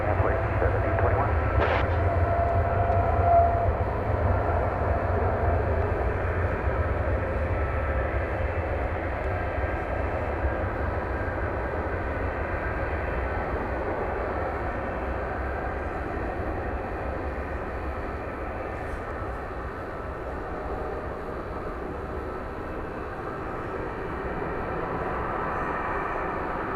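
Airplane on a long takeoff at DFW Airport at night, a steady low roar of jet engines sustained for the whole stretch, slowly easing off, with faint radio chatter underneath.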